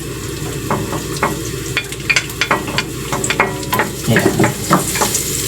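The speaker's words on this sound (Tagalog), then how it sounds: "Para mag-toast ng bawang." Garlic toasting in hot oil in a pan, a low steady sizzle broken by sharp scrapes and clinks of a spoon stirring, close and moderately loud; a brief spoken word is heard.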